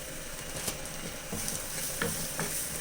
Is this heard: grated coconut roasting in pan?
yes